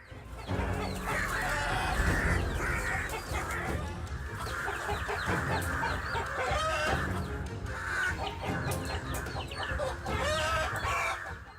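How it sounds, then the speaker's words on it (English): A mother hen clucks loudly and continuously as she defends her chicks from an attacking crow, with excited cackling bursts and squawks close by and no talk. "The mother hen reacts almost instantly. She fluffs her feathers, charges straight in, pecking and beating her wings to drive the attacker back."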